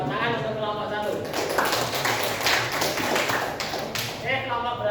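A classroom or training-session group applauds for the first group, a brisk burst of many hands clapping close by with voices talking over it at the start and end.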